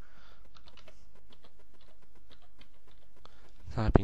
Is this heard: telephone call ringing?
no